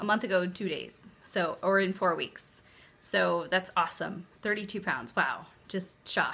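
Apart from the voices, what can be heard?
None of the usual background noises is heard.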